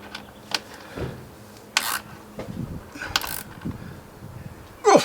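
Ratcheting clicks and short metallic tool sounds come in separate bursts while bolts are tightened on a fender extender on a BMW R1200GSA motorcycle, close and fairly quiet.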